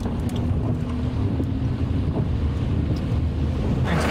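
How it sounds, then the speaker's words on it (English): A steady roar of heavy rain and a water truck's rushing spray on a road, with wind buffeting the microphone throughout; no voices. "Here's the water truck watering the road in the pouring rain."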